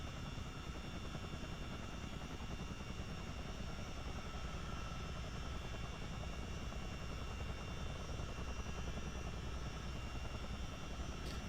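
Simulated CH-47D Chinook tandem-rotor helicopter engines in Microsoft Flight Simulator 2020, a loud, steady turbine whine layered over a dense, continuous rotor roar that holds evenly throughout.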